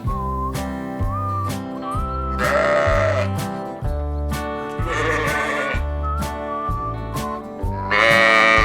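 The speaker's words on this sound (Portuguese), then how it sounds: "Ovelha, sheep." Sheep bleat in a few wavering calls over a bouncy, rhythmic musical backing with whistle-like melody notes, the bleats rising clearly above the music at intervals.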